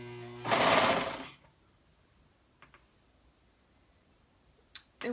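A sewing machine stitches a neckband onto a knit bodice in one short, loud burst of rapid whirring, followed by quiet with a few faint clicks of handling the fabric.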